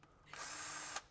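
A cordless ratchet spins up during cylinder head removal on a 1996 Toyota 4Runner, giving a brief, steady high-pitched whir that starts abruptly, holds for under a second and cuts off cleanly.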